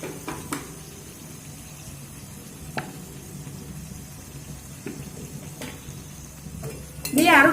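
Chicken and potato mixture with tomato and chili sauce being stir-fried on low to medium heat, a quiet steady sizzle with scattered spatula taps and scrapes, ending in a louder burst.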